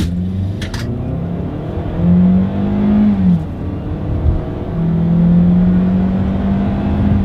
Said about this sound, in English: let's see how quickly we can get our new 2022 Sportage here up to speed